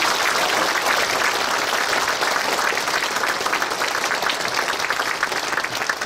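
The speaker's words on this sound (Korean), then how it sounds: "하단하실 때 뜨거운 박수로" A congregation gives warm applause as church elders step down from the stage at a retirement and ordination ceremony, a loud, continuous rush of many hands clapping that holds steady for about six seconds.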